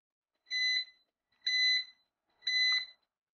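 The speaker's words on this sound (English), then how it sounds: "triggers a loud buzzer and flash before any damage can occur" Three evenly spaced, loud electronic buzzer beeps from a car engine temperature monitor's overheating alarm, each about a third of a second long with silence between them.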